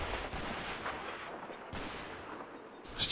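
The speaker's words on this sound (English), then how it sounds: "There's my mortars." Mortar rounds in the Combat Mission Market Garden war game, a few sharp blasts with long fading rumbling tails, moderately loud and spaced about a second apart.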